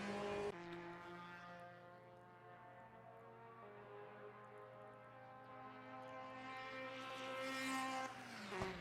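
A 1973 British Formula 3 race car at a circuit race, its engine a strong harmonic drone that falls in pitch as the car downshifts and then climbs again, heard steadily from start to finish.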